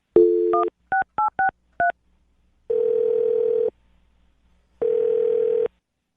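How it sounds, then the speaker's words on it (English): Telephone keypad tones beep in a quick string of short dual-tone presses, followed by two long ringback tones with a silent gap between them, clean and close with no voices. "we'll get her on the phone and find out what went wrong."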